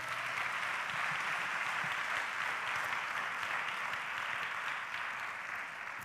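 A church congregation applauds together, a continuous even patter of clapping from a roomful of people, moderately distant, ending with a sharp knock.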